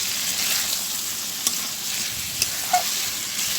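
Chicken kosha sautéing in a pan gives a constant, close hiss of sizzling oil, with a few soft clicks of stirring and no voices.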